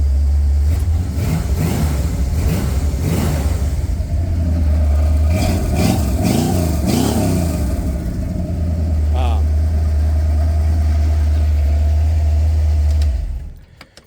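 A small-block Chevrolet V8 in a 1986 Jeep CJ7 idles loudly and steadily with a deep low rumble, briefly revving in the middle, then cuts off near the end.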